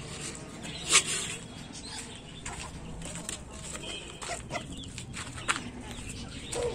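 Chickens cluck and squawk in short bursts, one sharp call standing out, over a steady farmyard murmur with no talking.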